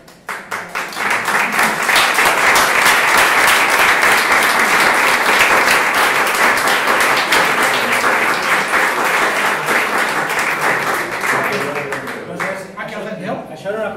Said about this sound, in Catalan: Això era un aplaudiment per la resposta